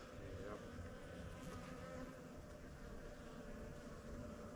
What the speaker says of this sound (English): Got some chubby bees, some nice winter bees over here